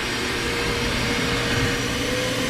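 A vacuum cleaner runs steadily in a garage where a car is being worked on, giving a constant loud broadband roar with a faint tonal hum and no talking.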